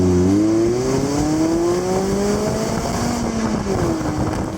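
A 2015 Mazda MX-5 with a 1.5-litre engine pulls steadily through the revs, its exhaust and induction buzz rising in pitch as it accelerates, loud and close with no voices.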